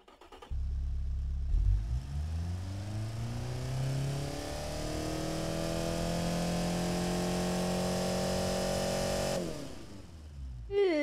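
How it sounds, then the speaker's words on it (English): A cheap four-cylinder car engine in BeamNG starts and revs up, pitch climbing steadily then holding at a high drone before cutting off, a thin, buzzy tone. "It sounds like a cheap 4-cylinder engine."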